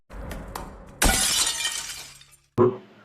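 Glass window shattering in a film scene, with a loud crash of breaking glass and a spray of falling shards, then a second sharp impact near the end, close and prominent.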